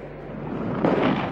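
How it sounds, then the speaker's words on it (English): Water bursts violently skyward as a bridge segment collapses into the sea during construction. A dense, low, rushing roar swells and grows louder toward the end. "A huge explosion of water blasted 30 meters into the air."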